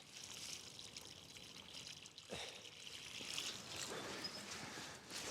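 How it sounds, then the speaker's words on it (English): Water trickles and pours softly onto plants in a dahlia garden, a faint, steady stream with no talking. "Let's give these a little bit of water."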